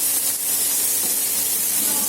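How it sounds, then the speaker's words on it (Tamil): Onions and garlic hiss and sizzle loudly in hot oil, a dense, continuous frying crackle that stays steady throughout. "வெங்காயத்தை கொஞ்சம் நேரத்துக்கு வதக்கிக்கலாம்"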